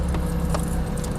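A pair of car keys for a wrecked 2012 Toyota Camry jangle close by in a short, bright metallic rattle over a steady low background hum.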